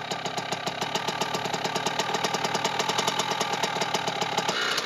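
Kawasaki KX65 dirt bike engine idling after a kick start, a steady rapid two-stroke putter with an even pulsing beat, close and continuous throughout.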